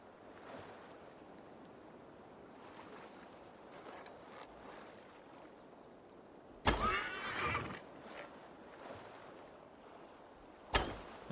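Horse swimming in Assassin's Creed Valhalla: faint ambient water and background tones, then a sudden loud whinny around the middle and a short second neigh near the end, with no talking.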